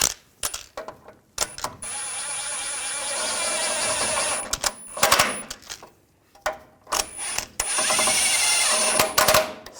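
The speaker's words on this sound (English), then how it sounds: "I'm going to tighten these down." Bolts on a 2015-2018 GMC Sierra 1500 steering rack being run down with a power tool, loud bursts of ratcheting whir in several separate runs, close by with short pauses between.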